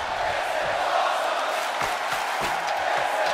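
Crowd noise in a wrestling video game, a steady broadband roar of cheering that stays loud and constant throughout with no clear peaks or breaks.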